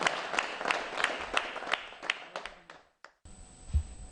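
An audience at a poetry gathering claps for a poet from Jaipur, with a steady run of fairly close hand claps that thins out and stops. A brief tone follows.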